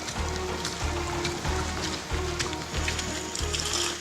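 Heavy afternoon rain pours down in the jungle as a steady, dense hiss that fills the whole clip, with dull low thuds recurring at a regular pace underneath and no talking.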